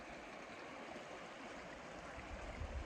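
A creek beside a wilderness camp spot, a steady soft rush and gurgle of flowing water, faint and continuous with no voices.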